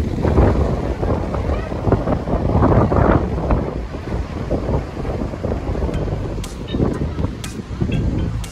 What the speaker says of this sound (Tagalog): Oh my God, it's too windy.